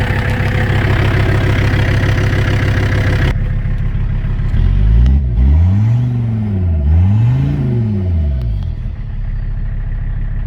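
The engine of a Mercedes W123 coupe runs loudly nearby, first at a steady idle and then revving up and down twice in rising and falling sweeps before settling back.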